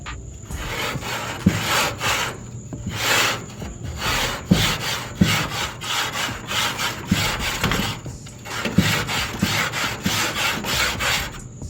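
A grill cleaning block scrubbing grime off a grill, loud rhythmic back-and-forth rasping strokes at close range that repeat steadily with brief pauses between bursts.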